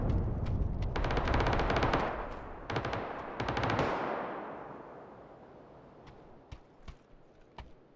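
Automatic gunfire in the PUBG video game, rapid bursts of shots that stop and start, followed by a fading echo and a few scattered single shots further away.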